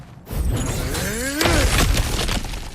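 Objects smash and shatter in God of War Ragnarok: a loud burst of breaking debris, a crash with scattered fragments and a sweeping whoosh, close and dense over nearly three seconds without speech.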